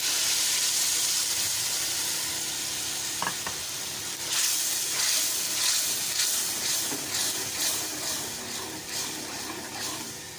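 Fresh paste from four or five small tomatoes hits a hot pan for a dhaba-style egg and peas curry. A steady loud sizzle swells into bursts of spattering hiss and stirring, close and with no talking.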